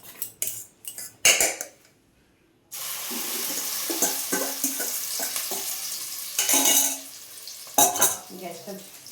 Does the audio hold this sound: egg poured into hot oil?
yes